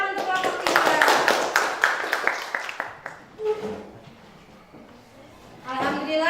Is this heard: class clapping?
yes